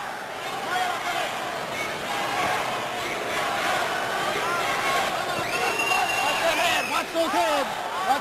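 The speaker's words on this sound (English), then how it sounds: "The chant you may hear from time to time is East LA, East LA" A boxing arena crowd at a 1994 bout involving De La Hoya roars and chants, a dense, continuous swell of voices with a commentator speaking over it and rising shouts toward the end.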